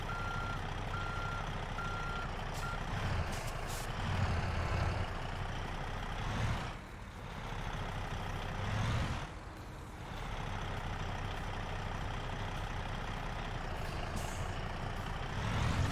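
Reversing beeps repeat steadily over a rumbling heavy truck engine in American Truck Simulator, with a brief dip in the engine drone midway and a hiss like an air brake.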